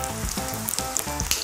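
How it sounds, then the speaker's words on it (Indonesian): Crispy corn fritters fry in hot oil, a bright crackling sizzle with small bursts and pops, close and moderately loud over a short stretch, with a faint stirring scrape and no talking. "Tips menggoreng. Jangan ngegoreng terlalu banyak. Jangan ngegoreng terlalu penuh."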